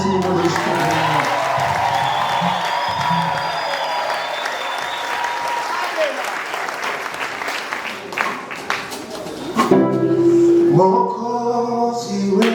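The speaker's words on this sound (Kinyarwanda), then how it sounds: "Aba bantu ndakeneye ko dukoma amashyi menshi n'impundu zishimye." A church congregation bursts into sustained applause mixed with ululation, dense clapping for most of the stretch before tapering off, then giving way to music with singing near the end.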